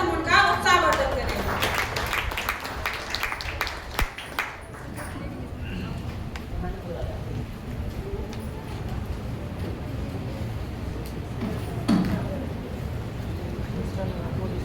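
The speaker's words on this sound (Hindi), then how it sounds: "आइए तालियों के साथ हम उनका उत्साहवर्धन करें" An audience applauds a speaker at a speaking event, with dense, moderately loud clapping at the start that thins out and gives way to a voice addressing the crowd.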